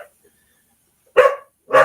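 A pet dog barks twice, loud and close, with a short pause between the sharp woofs and near silence before.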